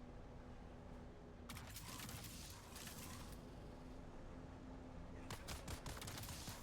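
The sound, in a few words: sniper rifle gunfire in the video game Dune Awakening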